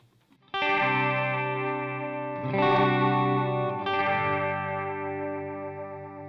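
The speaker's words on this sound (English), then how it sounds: "turn the repeats to almost off, and then do like a quicker kind of slapback thing" Sustained electric guitar chords ring out through a J. Rockett Alien Echo pedal set to minimal repeats, giving a quick slapback echo and warbly modulation, three strums in succession, no voices.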